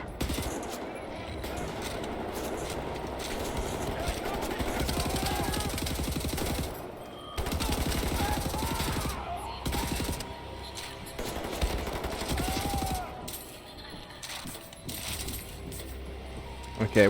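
Nazi soldiers firing in Wolfenstein: The New Order, dense rapid bursts of machine-gun fire with metallic clinks, nearly continuous and loud, briefly pausing and resuming, with a voice talking over parts of it.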